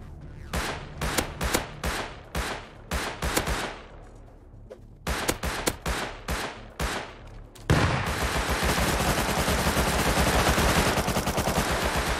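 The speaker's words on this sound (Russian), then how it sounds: "Это турель стреляет с Томика, я не могу понять, что это за бред." A turret in the Rust video game fires rapid bursts of gunshots in quick spaced volleys, then breaks into a loud, sustained stream of automatic fire.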